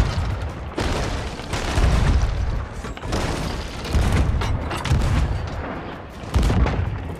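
Rapid volleys of heavy cannon fire in the Sea of Thieves pirate game, deep booming blasts overlapping into a near-continuous barrage with crackling, rumbling decay, loud and close, with only short gaps between salvos.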